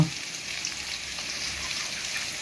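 Potatoes sizzle and crackle in hot oil, a steady dense frying hiss that fills the whole stretch without pause, close and moderately loud with no talk over it.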